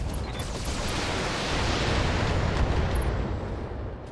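Mech weapons fire in the BattleTech video game: a loud, dense, unbroken roar of blasts and rumbling that holds steady for several seconds, with no voices over it.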